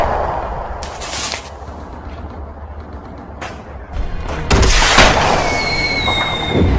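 A signal flare launches amid a LEGO war battle scene, bursting in with a loud crack and fizzing whoosh that trails into sustained hissing, several sharp blasts scattered across the din with no voices.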